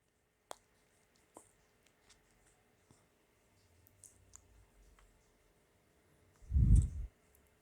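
A few faint, sharp mouse clicks spaced apart on a quiet computer desk while installing an Astra WordPress template, followed by a brief low thump.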